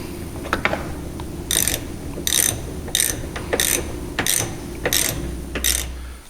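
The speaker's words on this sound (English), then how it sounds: "Now we'll take our 3/8 ratchet and 10mm socket and we'll snug these up." A 3/8 ratchet with a 10mm socket snugs screws on Can-Am Defender door hardware, giving rapid clicking pawl bursts in about eight short strokes, close and clear, with quiet pauses between.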